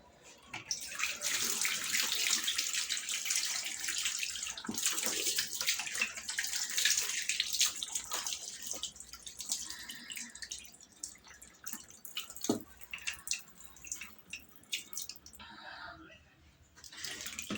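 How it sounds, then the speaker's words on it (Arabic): Warm tap water runs steadily over salted fish (fesikh) being washed by hand, a close hissing stream with drips and handling noises that thins out later, with a faint voice now and then. "هنمسكها نغسلها بشويه ميه دافيين،"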